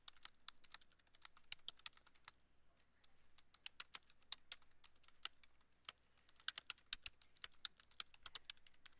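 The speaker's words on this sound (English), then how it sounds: "and then I'll just start typing" Steady typing on a computer keyboard, quick irregular key clicks going on for several seconds, soft and close with no voices.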